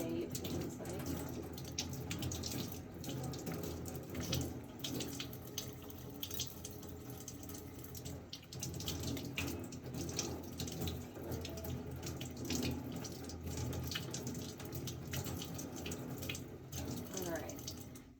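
Tap water runs steadily into a sink as instruments are rinsed under it, a continuous splashing wash that lasts throughout with faint background voices.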